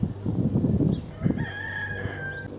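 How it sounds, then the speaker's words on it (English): A rooster crows once at close range, a drawn-out call rising over background rustling and low ambient noise. "And the authentic hen close by, or cock actually."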